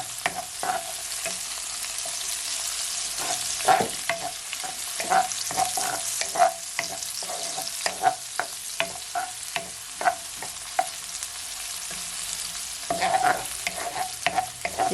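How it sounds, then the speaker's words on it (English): Sweet green peppers sizzle in a frying pan for smothered chicken and gravy, with a steady close hiss broken by repeated stirring scrapes and taps throughout. No one speaks. "Now I'm adding my sweet green peppers."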